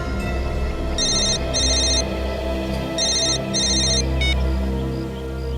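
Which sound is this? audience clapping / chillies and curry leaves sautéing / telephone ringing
telephone ringing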